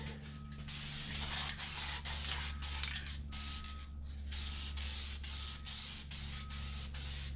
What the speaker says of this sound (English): you flip them upside down, spray, that's what cleans out the valve